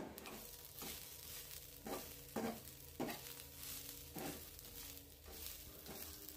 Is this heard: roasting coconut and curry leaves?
yes